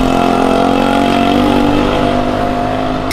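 A small motorbike engine drones loudly and steadily as it passes close by on a street, with a sustained buzzing tone that holds for a few seconds without speech.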